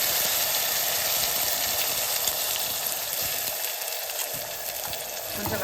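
Ground onion and tomato paste fries in a pan for kadalai curry, making a continuous, dense sizzling hiss that stays loud and close throughout, with faint stirring underneath and no talking.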